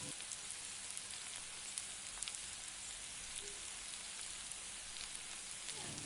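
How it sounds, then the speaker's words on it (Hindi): Steady, dense sizzle of papdi frying in hot oil, a close and continuous crackling hiss with scattered pops and no talk. "फिर उसके बाद जितने भी पापड़ी और बचे थे फिर उसे भी हम इसी तरीके से फ्राई कर लेंगे"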